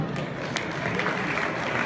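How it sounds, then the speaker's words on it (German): Crowd applause at a cattle show for Original Braunvieh cows at the 2017 regional exhibition in Imst, Austria, a dense, even wash of clapping that holds steady for about two seconds. "machen wir noch einen Applaus"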